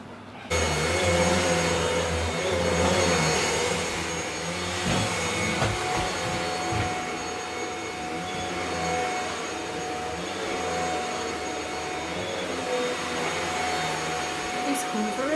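Vacuum cleaner hoovering indoors, a steady loud whining roar that runs throughout with slight shifts in pitch and faint knocks as it moves around a room.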